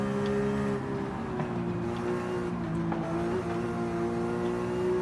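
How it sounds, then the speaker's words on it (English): A smooth non-turbo flat-six race car engine revs in Forza Horizon 5, holding a steady high drone with slight pitch shifts, fairly quiet and alone. "What a smooth flat 6, dude. No turbos, nothing like that, just pure revs."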